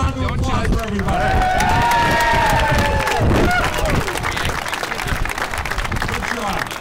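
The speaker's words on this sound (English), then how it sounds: "how about one last round of applause for everybody?" Spectators at a harbor hot wing eating contest clap and cheer in a loud burst of crowd applause, mixed with shouting voices and chatter that continues as the clapping tapers off.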